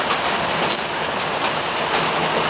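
Steady rain falls outdoors on a rainy winter day, a dense, even hiss of drops close by with no voices.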